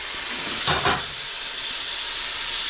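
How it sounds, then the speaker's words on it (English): Broth poured into a hot pan of onions on a small stove bursts into a short hissing sizzle, then settles into a steady, faint simmering hiss. "I'm going to add a little bit of this broth."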